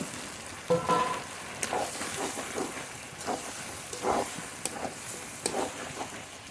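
Desi duck meat with fried potatoes sizzles and hisses while being sautéed in a pan, a continuous steady fry punctuated by occasional scraping stirs and clinks, fairly close and with no talking.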